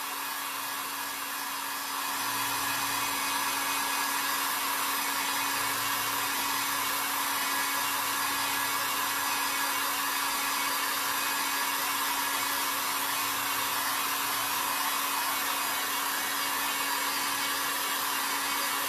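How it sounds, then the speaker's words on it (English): A blow dryer runs steadily and loudly for the whole stretch, drying paint on a painted cutting board, with a constant airy roar and a faint hum underneath, no talking. "if you don't have a heat gun, you can use a blow dryer"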